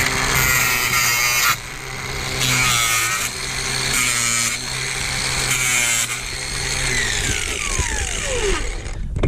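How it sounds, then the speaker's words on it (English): An angle grinder whines steadily and loudly while grinding out old lath nails from brickwork, its pitch dipping and rising as the disc bites, then winding down at the end. "get the old grinder"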